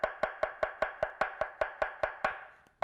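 A knife slices mushrooms thinly on a cutting board for a double patty beef burger, giving about a dozen crisp, evenly spaced chops close by, steady in rhythm and alone without talk.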